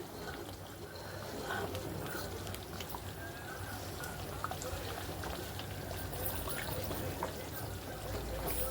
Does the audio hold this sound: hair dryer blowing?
no